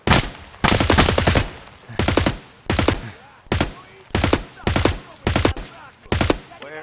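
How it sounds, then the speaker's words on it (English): Bursts of automatic rifle fire in Escape from Tarkov, AKs with drum magazines, about eight loud, close volleys in quick succession separated by short gaps, with no speech. "Where is he shooting?"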